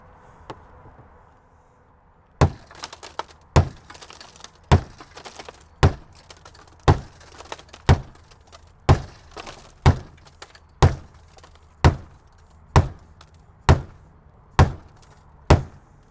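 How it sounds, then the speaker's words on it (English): A tactical aluminum pen strikes car door glass again and again: about fourteen sharp, loud cracks at a steady pace of roughly one per second. A quiet stretch comes before the first hit, and no voices are heard. "So now for our extreme test, let's see if we can put it through the car door itself."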